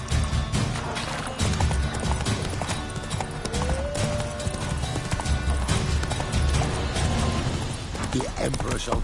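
Roach, a horse in The Witcher 3, gallops with steady, rapid clip-clop hoofbeats and a brief whinny, layered over game music and ambience while characters talk.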